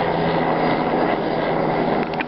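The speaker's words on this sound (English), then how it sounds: "it's not an airplane. It's a helicopter." A helicopter flying far off gives a steady broadband rotor-and-engine roar that fills the whole stretch at an even level.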